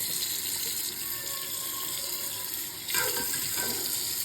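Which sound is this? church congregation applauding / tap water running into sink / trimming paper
tap water running into sink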